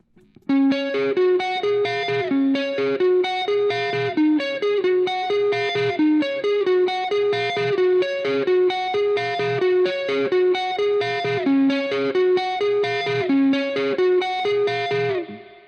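A distorted electric guitar plays a repeating, steady riff of quick notes in a driving rhythm, loud and alone without other instruments.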